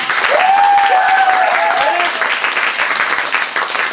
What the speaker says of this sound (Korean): 방청석에 계신 주민분들은 큰 박수로 환영해 주시면 감사하겠습니다